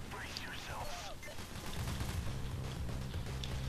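Gunfire aimed at cops in PayDay The Heist, a dense continuous stream of shots with a background voice early on, the firing thickening midway.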